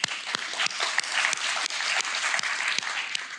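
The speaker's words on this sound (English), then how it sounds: "We can get an applause for them one more time." Workshop audience applauding speakers and moderators: a steady, dense wash of clapping from a crowd, moderately loud and continuous throughout with no talking.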